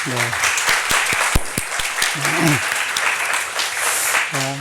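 A church congregation applauds loudly with dense, sustained clapping that fills the room, while a voice speaks briefly at the start and end.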